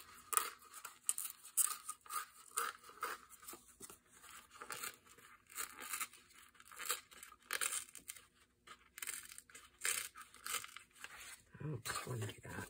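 Paper is ripped out of a fall journal in repeated short tearing and crinkling bursts, close and fairly soft, with brief pauses between pulls.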